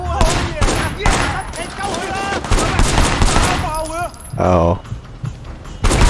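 Repeated gunshots and bursts of fire in the game Sleeping Dogs Definitive Edition, loud and close, with a player talking and exclaiming between the shots.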